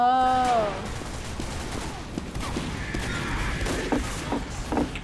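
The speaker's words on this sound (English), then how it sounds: "he's just shooting" Gunfire in Team Fortress 2 on the Hightower map, a volley of sharp shots at the start and then scattered pops and thuds further off, all under a steady busy game background.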